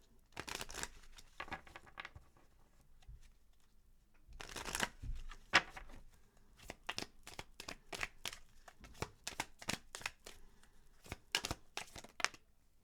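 Angel of Abundance oracle cards are shuffled close by, producing a quiet rustle and then a run of crisp, rapid riffling bursts in an uneven rhythm, with no talking.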